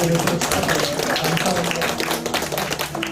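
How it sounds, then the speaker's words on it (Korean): A church congregation at a Sunday Advent service gives encouraging applause, many hands clapping in a busy, fairly steady patter with faint sustained tones underneath. "우리 또 서로 힘내라고 또 격려의 박수로"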